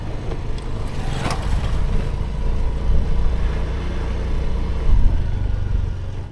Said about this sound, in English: that's the sound it makes when it drives through a road full of potholes